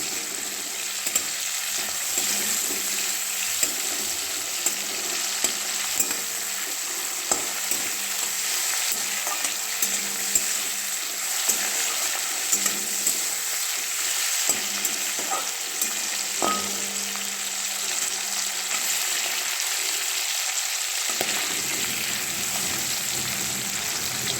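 Spinach fries with a fish head in a pan, giving a continuous bright sizzle with frequent scraping stirs and light clatters of the utensil, close and steady throughout.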